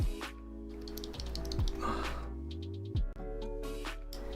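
Clacky keystrokes on a mechanical keyboard fitted with lubed Tealios switches and Boba U4 housings, arriving in irregular bursts over a low background hum, close and moderately loud, with a few deeper thocks mixed in.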